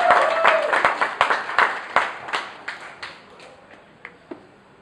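Applause from a small stand-up comedy crowd at Bacchus 2011, a burst of scattered claps that thins out into a few isolated, fading claps over several seconds.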